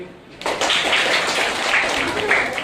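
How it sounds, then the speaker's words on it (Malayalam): Children clap together on request, a dense burst of many small hands that starts abruptly after a brief quiet moment and stays steady and close throughout. "ഓക്കേ എല്ലാരും ക്ലാപ്പ് കൊടുക്ക്"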